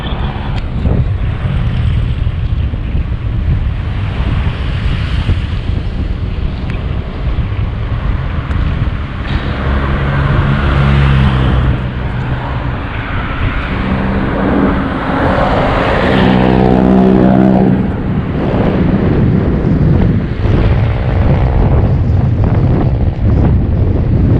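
Strong headwind buffeting a microphone while riding near Pila, Laguna, a loud, gusty rushing roar with a low vehicle drone underneath, surging stronger toward the middle.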